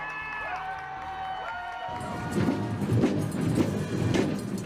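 Crowds cheer along a presidential inauguration parade route. A tonal passage gives way halfway to a rising wash of distant cheering and applause that continues to the end.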